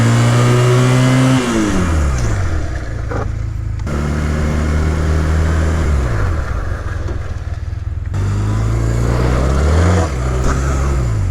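A sidecar motorcycle trike revs up through its gears, with engine pitch climbing and falling across repeated runs, then drops away under hard emergency braking, the loud engine close and steady throughout.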